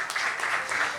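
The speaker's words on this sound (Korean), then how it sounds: "우리 함께 큰 박수 주시면 감사하겠습니다" Brief applause from a young adults' church congregation as gifts are presented, soft massed clapping in a quick, even patter that lasts only a moment.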